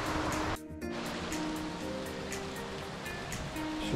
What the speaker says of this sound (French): un petit ruisseau. Ça, qui nous fait des petites mini-cascades.